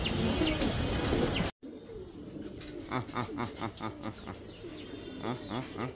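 A pigeon coos repeatedly, in soft rhythmic calls close by, after landing back home from a flying contest. A louder burst of noise cuts off abruptly just before the cooing begins.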